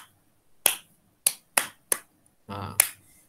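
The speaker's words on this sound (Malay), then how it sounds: "Tepuk tangan bagi orang perempuan." A handful of sharp, isolated hand claps demonstrating the clapping used by women during prayer, spaced irregularly at close range, with a short rustle of movement before the last clap.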